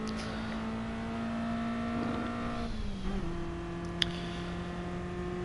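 A car engine in a video game holds a steady, buzzing tone, dips briefly in pitch, then settles at a lower pitch and keeps droning evenly, with a faint click near the end.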